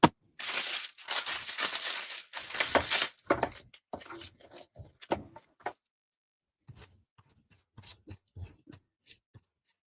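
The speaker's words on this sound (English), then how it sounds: "we're going to pull up some paint with tissue paper so that maybe I can use it in the collages" Tissue paper is pressed and pulled off wet paint on a gel printing plate, with a loud crinkling rustle at first that gives way to scattered soft crackles, ticks and peeling sounds, close up, with no talking.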